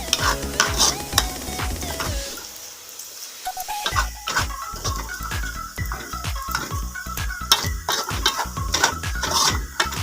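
Garlic frying in oil in a pan, a loud close sizzle with repeated scraping stirs of a spatula against the pan throughout, no talking.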